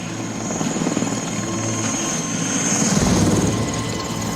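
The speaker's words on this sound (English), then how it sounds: "we've seen now a helicopter flying around" A helicopter from the film Rambo III flies past with loud, continuous rotor thump and engine whine that swells slightly toward the end, no voices over it.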